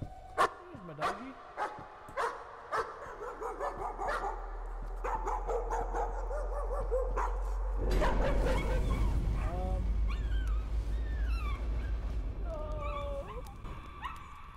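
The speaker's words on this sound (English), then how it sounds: "Here's my doggy." A dog in the horror video game Layers of Fear barks in a run of sharp, evenly spaced yelps, then whimpers and whines in rising cries over a low droning hum.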